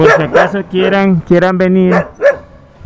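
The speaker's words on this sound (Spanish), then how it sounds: "Ahí está el perro que no es muy amistoso." A not very friendly dog at a closed circus in Colombia barks and yips several times in short bursts, loud and fairly close, with someone speaking in between.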